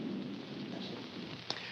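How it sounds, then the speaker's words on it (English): Thunder rumbles low and distant in the mountains beneath a steady wash of rain, with a faint crackle and one brief sharp tick near the end. "there's an old legend about the thunder up here"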